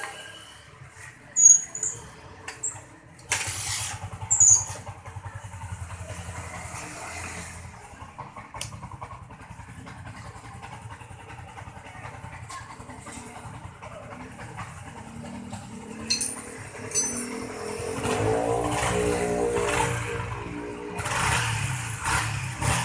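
Yamaha MX King 150cc motorcycle engine, noted for a rough-sounding motor, starts after a few clicks and knocks, then idles with a steady low rumble that grows slightly louder and busier toward the end.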